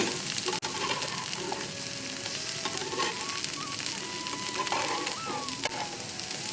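Wheat flour dosa batter fries on a hot pan, a constant dense crackling sizzle throughout with faint thin tones over it and one sharp click near the start, no talking.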